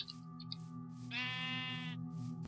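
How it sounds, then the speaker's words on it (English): A brown sheep in Minecraft gives a short synthesized bleat, a clear nasal wavering call rising out of a low steady background drone, fairly close. "There's another brown sheep."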